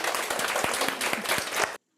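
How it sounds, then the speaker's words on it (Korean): Classroom students applaud the winning blue team after a math quiz game, a busy burst of clapping with a few sharper individual claps standing out, cutting off abruptly into silence. "네, 청팀 박수!"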